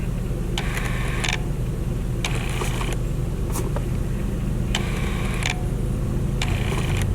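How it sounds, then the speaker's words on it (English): Tamron 10-24 zoom lens autofocus motor driving in short repeated whirring bursts of about half a second, five in all, heard over a steady low background hum. "See if you can hear the focusing motor."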